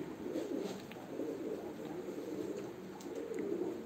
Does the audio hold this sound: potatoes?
no